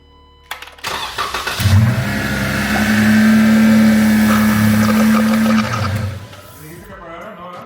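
A Jeep engine cranks and fires, settling into a loud, steady idle for several seconds before shutting off, heard close up with a voice around it.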